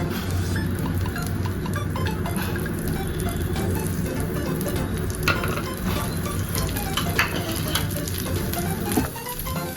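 Ghee sizzles on a green spinach (palak) dosa in a hot pan, a steady close crackling fry with light scraping and stirring textures throughout, no talking.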